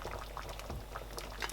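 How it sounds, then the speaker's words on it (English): Palm oil is poured into a pot of simmering bitterleaf soup, heard as a soft, steady bubbling and liquid trickle, faint and close, with no talk. "I'm going to add palm oil,"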